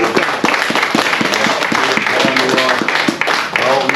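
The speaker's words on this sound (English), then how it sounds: "a big round of applause for the people who show up to help me" A crowd at a convoy event claps in a dense, sustained round of applause, loud and close, with a voice speaking over it.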